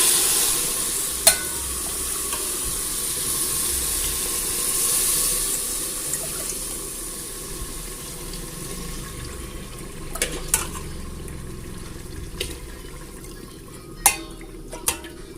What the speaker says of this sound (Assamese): এতিয়া মই ইয়াতে পানী দি পেলাই ঢাকনিখন মাৰি দিম